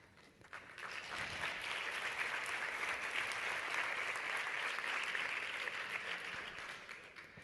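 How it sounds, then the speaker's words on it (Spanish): Audience applause at a journalism congress in Huesca, a dense even wash of clapping that swells in within the first second and holds steady, fairly loud, with no talk over it. "Me imagino que los aplausos son o para el vídeo o para los ponentes"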